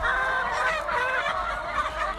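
Poultry in a hen coop housing free-roaming laying hens gives off a dense, continuous chorus of honking, clucking calls, close and loud with no speech.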